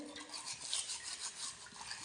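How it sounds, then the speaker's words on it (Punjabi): A brush scrubs a long-neglected, algae-coated container cleaned with vinegar and baking soda, making quiet, close rhythmic rasping strokes in quick succession, with no speech. "ਆ ਰਬਦਾ ਜੀ ਇਹਨੂੰ ਚੰਗੀ ਤਰ੍ਹਾਂ ਸਾਫ਼ ਕਰ ਦਿੰਨੇ ਆ"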